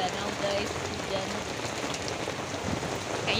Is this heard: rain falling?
yes